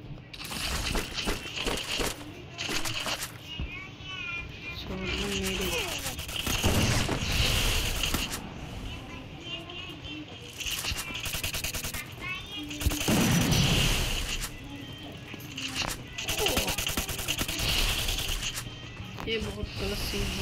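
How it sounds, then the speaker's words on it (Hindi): MP40 submachine gun fire in the mobile battle royale game Free Fire, with repeated bursts and shots throughout amid game effects, while someone talks over much of it. "तुम MP40 ले लेके मार रहे हो मेरे को"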